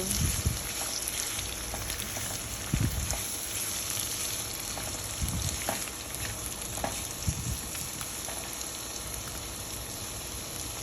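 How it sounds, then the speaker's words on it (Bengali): Onions frying in oil in a pan for chicken tehari, a steady dense sizzle heard close and continuous, with a few faint low knocks of stirring scattered through. "এবার সব পেঁয়াজগুলো দিয়ে দিলাম পেঁয়াজগুলো নেড়ে সেড়ে লাল করে একটু দিয়ে নিব"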